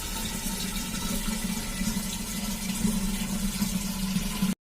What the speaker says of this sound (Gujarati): હવે જો આ રીતે હું પોણું માટલું પાણીથી ભરી દઉં છું